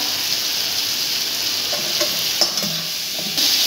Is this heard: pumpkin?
yes